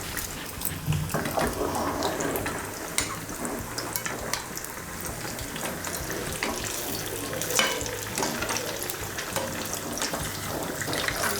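Purnam burelu, sweet dumplings dipped in batter, fry in hot oil with a steady, bright sizzle and crackle, while occasional soft scrapes and pops come as they are gently turned over.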